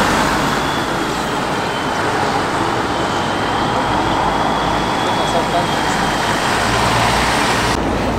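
A classic Massey Ferguson tractor arrives at a Boxing Day threshing, classic car and steam meeting, giving a steady, loud, broadband rumble that holds without a break for about eight seconds.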